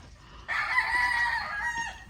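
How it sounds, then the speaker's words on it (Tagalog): A single rooster crows once, a loud drawn-out call lasting over a second, close by against a quiet background. "Yan po yung mga manok namin ngayon dito."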